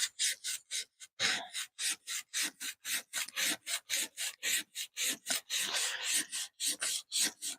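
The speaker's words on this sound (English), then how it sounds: "it's basically just glued on sandpaper" Sandpaper glued to a stick rasps back and forth along a thin wooden twig in quick, steady strokes, each scrape sharp and close with brief gaps between, about twenty passes in a row.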